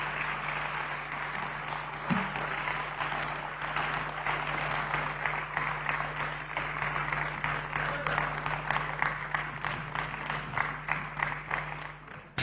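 An audience at a National Democratic Congress state of the nation address in Ghana applauds after a speech, a dense, steady clatter of many hands lasting throughout, with a low steady hum underneath.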